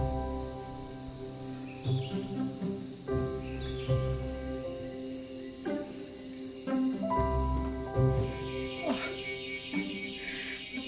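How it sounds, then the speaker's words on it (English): Rainforest insects and birds in Borneo, Malaysia: a dense, steady chorus of ratcheting, pulsing insect calls with tonal bird notes, fairly close and continuous, with brief louder rustling bursts and no talk. "The sounds of all the insects and the birds."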